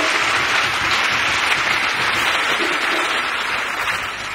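A church congregation applauds loudly and steadily in praise of Jesus Christ, a dense unbroken wash of clapping that fills the room and eases off only slightly toward the end.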